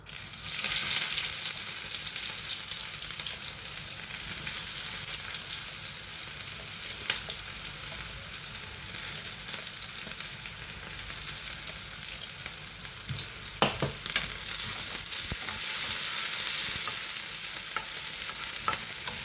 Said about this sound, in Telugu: చూడండి, నూనె బాగా కాగింది, పొగ అనేది వస్తుంది. ఇప్పుడు మనం ఉల్లిపాయలు వేసుకుందామండి.